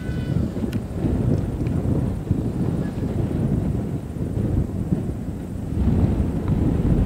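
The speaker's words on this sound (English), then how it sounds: "Getting windy now." Heavy wind buffets the microphone at an RC plane flying field in a steady low rumble, with gusts swelling louder near the end; no one speaks.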